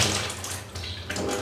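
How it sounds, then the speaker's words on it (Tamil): Water from soaked chana dal is poured off and drained in a home kitchen, a close, splashing trickling stream that dips briefly midway, then surges again, with no talking. "இப்போ இந்த தண்ணியை நல்லா வடிகட்டி எடுத்துகிட்டு வந்துடலாங்க."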